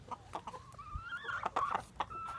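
Backyard chickens in a coop, a flock of thirteen, cluck and murmur faintly with scattered short calls over a quiet background.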